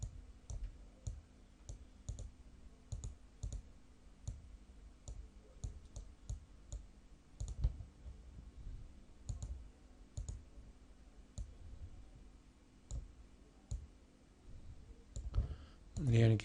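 A computer mouse clicks sharply and repeatedly, with irregular single and double clicks spread across the whole stretch against a quiet background hum.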